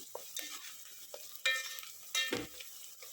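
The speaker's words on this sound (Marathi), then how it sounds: "असा 2 चमचे कांदा मी ग्रेव्हीसाठी काढून घेतलेला आहे. हा आता व्यवस्थित भाजून घ्यायचा आहे." Chopped onion for veg biryani gravy is turned in a pan, with a few sharp spatula scrapes and clicks over a quiet, faint sizzle and no talking.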